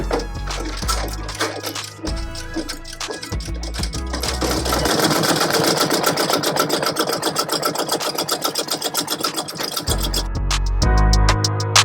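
A Ricoma EM-1010 embroidery machine stitching a 3D puff design on a hat, running with a fast, steady mechanical rattle and needle clatter that pauses briefly and then returns, heard close and alone.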